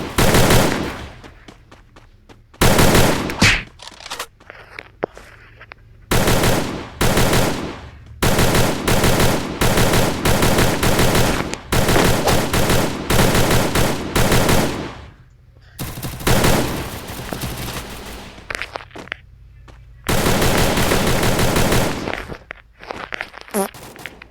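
Gunfire in the mobile battle game Free Fire, loud bursts of rapid automatic shots in repeated volleys separated by brief pauses, close and harsh, with footsteps between bursts.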